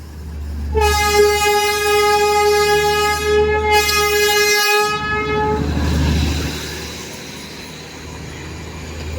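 A Darjeeling steam toy train blows one long, loud, steady horn blast lasting about five seconds, then fades into rumbling railway noise.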